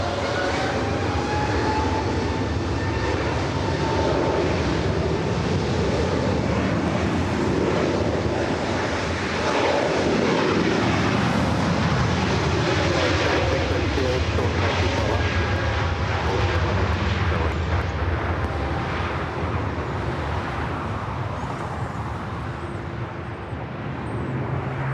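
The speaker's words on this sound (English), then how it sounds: "Frontier A321neo now rocking and rolling down that 24 left." Frontier Airbus A321neo taking off down runway 24 left at Los Angeles airport, a loud sustained jet engine roar throughout, heard from nearby with a shifting broadband rumble.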